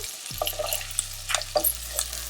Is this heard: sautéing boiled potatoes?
yes